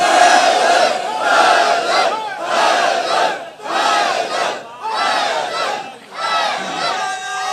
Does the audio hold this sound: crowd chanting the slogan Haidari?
yes